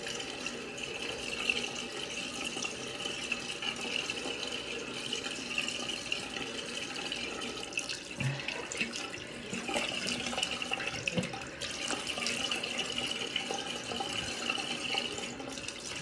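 Warm tap water runs steadily from a faucet into a sink while a clay face mask is rinsed off, a continuous soft splashing flow with small irregular splashes and no speech.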